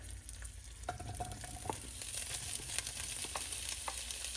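Smoked sausage browning in a hot gumbo pot, a steady close sizzle with soft scattered crackles and pops running without a break.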